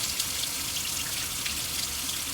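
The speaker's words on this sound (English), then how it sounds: "I am just going to rinse it off" Running tap water splashes steadily while a makeup brush is rinsed underneath, a constant close hiss with no speech.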